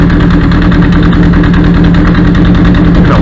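A Honda CB750 motorcycle engine idles steadily on a cold, rainy day, a loud close rumble with a fine rapid valve tap running through it for the whole stretch.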